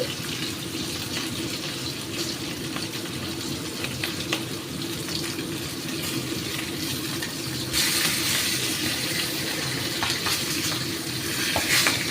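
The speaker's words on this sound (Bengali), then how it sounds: "মাছটা ভেজে নিচ্ছি" Pieces of hilsa fish fry in hot oil in a pan, giving a steady, close sizzle that swells louder partway through, with no talking.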